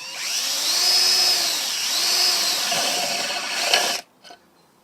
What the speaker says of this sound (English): I've bought plenty of plastic, electric battery drills over the course of time